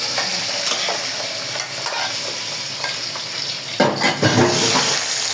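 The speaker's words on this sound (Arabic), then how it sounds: "حطيت معلقه سمنه وانزل ده بالكبد فيه" Liver frying in hot ghee hisses in a loud, continuous close-up sizzle, with stirring clatter rising near the end.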